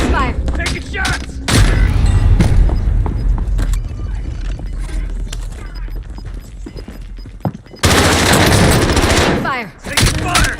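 Gunfire in Call of Duty Warzone: loud, rapid shots and machine-gun bursts crackle close by, broken by heavy booms, with a dense volley near the end and voices talking faintly underneath.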